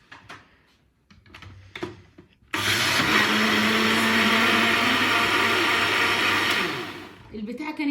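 An electric kitchen blender mixing yogurt, vanilla and vinegar starts abruptly after a few faint handling sounds and whirs loudly and steadily for about four seconds before winding down.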